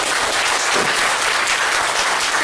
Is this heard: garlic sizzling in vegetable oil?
no